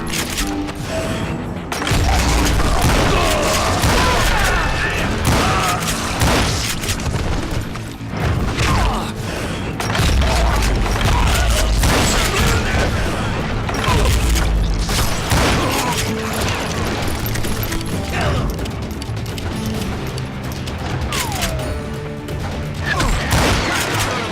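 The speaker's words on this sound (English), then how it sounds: "Shoot that bastard!" Dense, continuous noise from the Call of Juarez: Gunslinger video game, with rattling bursts of gunfire and mechanical clatter layered into a loud, busy mix that never lets up.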